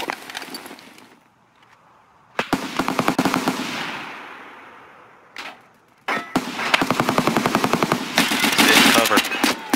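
Bursts of rapid automatic gunfire in the shooter game Escape from Tarkov during a PvP raid on the Interchange map, loud and close, with a long sustained volley in the second half and brief quieter gaps between.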